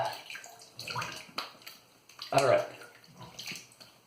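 Water splashing and dripping as a face is rinsed after a shave, a soft close run of uneven splashes with one louder splash midway, and a brief spoken word over it.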